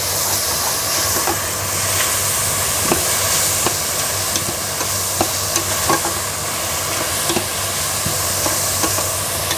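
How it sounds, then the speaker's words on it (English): Vegan one pot pasta being stirred in a hot pan, a steady loud sizzle with scattered scraping clicks from the spoon, no voices. "Give him another stir."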